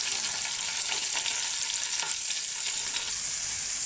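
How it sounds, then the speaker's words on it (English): Chicken frying in a frying pan for a Jamaican chicken soup, a steady close sizzle with crackles and spits running throughout, no talking. "The second half I'm going to put inside the frying pan"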